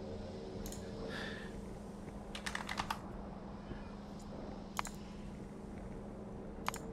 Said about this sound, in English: let's just start a new line and type the number in manually